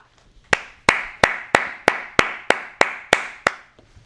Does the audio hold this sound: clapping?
yes